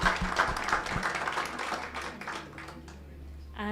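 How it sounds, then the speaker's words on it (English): Audience applause closes a panel discussion on civil society and rule of law in East Africa, a short burst of clapping that thins and fades within a few seconds. "Another round of applause."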